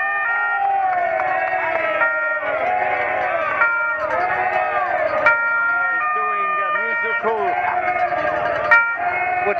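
A vehicle siren plays warbling, tune-like patterns at close range for several seconds, over roadside crowd noise and occasional cheering on a Giro d'Italia mountain stage switchback.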